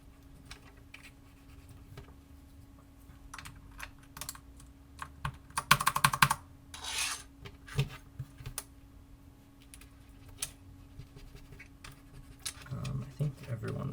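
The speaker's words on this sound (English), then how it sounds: "I have this keyboard because it's so loud." Loud mechanical keyboard keys clacking in bursts of fast typing, close up, with quieter pauses between flurries.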